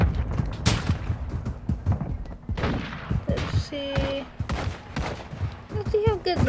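Bursts of automatic gunfire and scattered shots from Warzone Mobile multiplayer, loud and dense across the whole stretch, mixed with game effects and a short tonal beep, with faint voice chatter underneath.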